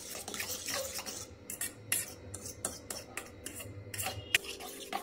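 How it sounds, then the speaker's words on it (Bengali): Egg whisked together with chopped onion and green chili in a bowl, a steady run of scraping, clinking stirs against the sides with small rhythmic taps, close and fairly quiet with no talking. "ডিম, পেঁয়াজ, কাঁচা লঙ্কা ভালো করে মিশিয়ে নিয়েছি।"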